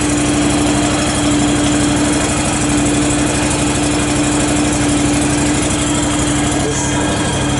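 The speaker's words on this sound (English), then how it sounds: "It's starting right at idle." A John Deere X485 lawn tractor engine runs at idle, a loud, steady, close-up throbbing drone with no pause throughout.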